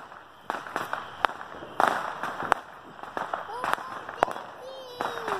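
Fourth of July consumer fireworks go off outdoors in a rapid string of sharp pops and crackles, with a few rising whistles, heard at moderate distance with voices in the background.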